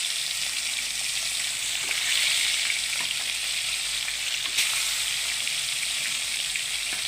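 Katla fish deep-frying in plenty of oil gives a steady, loud sizzle throughout, with a slight bubbling swell midway and one brief sharp crackle; no one speaks.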